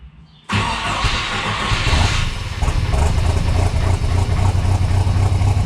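After a brief quiet start, a Mercruiser 140 boat engine, idling rich, cranks and catches abruptly, then settles into a loud, steady, rumbling idle that continues to the end.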